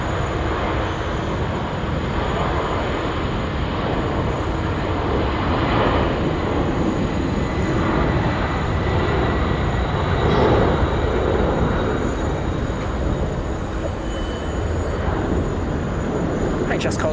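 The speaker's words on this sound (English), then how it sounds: "I'm going to have two heavy departures at the same time" Two heavy jets departing together at Sydney, including a Tasman Cargo Boeing 767 freighter bound for Auckland, their engines making a loud, continuous, broadband roar that swells slightly midway and persists throughout.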